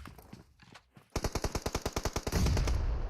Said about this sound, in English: QBI getting a bunch of shots landed on him by one of the members from GC Killer right here